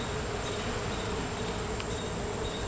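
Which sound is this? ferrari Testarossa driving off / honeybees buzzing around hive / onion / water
honeybees buzzing around hive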